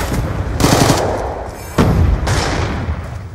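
Bursts of rapid automatic gunfire from enemies in a swarm-mode video game, with two loud sustained volleys separated by a brief lull, close and dense with booming low end.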